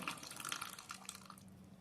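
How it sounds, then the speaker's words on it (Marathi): Water drips and trickles faintly from fresh homemade paneer wrapped in white cloth, a soft, uneven patter that fades toward the end. "ह्यातलं पाणी सगळं निथळलं पाहिजे"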